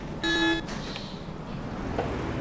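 A bus horn in the OMSI 2 driving simulator, an old Polish communist-era bus, gives one short, loud, steady honk lasting about half a second over a low idling engine drone.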